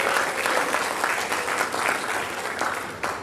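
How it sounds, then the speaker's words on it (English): An audience at a school district board meeting applauds a retiring staff member, a continuous wash of clapping that holds steady for a few seconds. "let's give her a round of applause"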